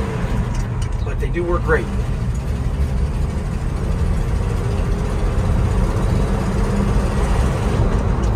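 A 1968 Ford F-250 Highboy 4x4 with a four-speed gearbox drones steadily while driving, its low engine rumble continuous throughout, with someone talking briefly over it near the start.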